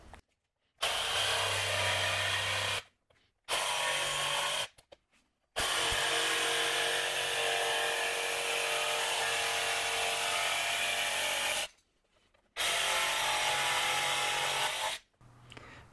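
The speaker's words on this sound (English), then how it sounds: "And I'll notch this out with a jigsaw." A power jigsaw notches out a piece of board, loud close buzzing in four long runs separated by short silent pauses.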